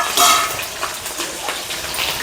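Green chilies and cumin fry in a pan with a soft, steady sizzle, broken by a few light stirring scrapes and clinks close by.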